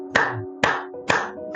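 Three sharp, loud hand-clap bursts spaced about half a second apart, with a fourth starting at the end, set over a steady low hum, imitating a ghost clapping wildly in a horror story.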